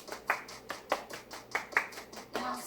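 Children at a church vacation Bible school clap their hands in a steady rhythm, with about eight distinct close claps evenly spaced, plus a final longer clap.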